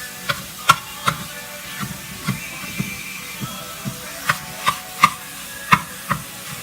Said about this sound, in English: while it's cooking up, I'll continue to mash it up